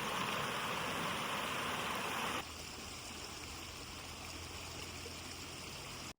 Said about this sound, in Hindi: अपनी ही धुन में बहती बोर नदी।